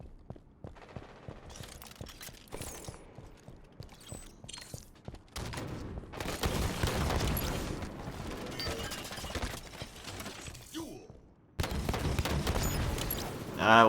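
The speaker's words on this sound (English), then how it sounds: "I love having the Hydra rocket." Hydra rocket launcher fire in Halo 5 Guardians Breakout gameplay: rapid bursts of launches and booms mixed with other gunfire, footsteps and mechanical clatter, building into dense, loud combat noise toward the end.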